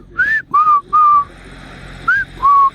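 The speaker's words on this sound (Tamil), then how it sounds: "இந்த மாதிரி விசில் சைகைகளால் தான் அவர்களுடைய பேரே இருக்குது." A villager's whistled name signal, the kind tribal people in a village at the world's wettest place use as personal names: five clear, melodic whistled notes in two groups, rising and falling, close and loud against quiet background.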